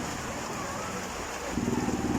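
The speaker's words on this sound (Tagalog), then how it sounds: "So samantalahin natin tong malakas na ulan." Heavy rain falling outdoors, a steady, fairly faint broadband hiss throughout, with a slightly louder patter toward the end.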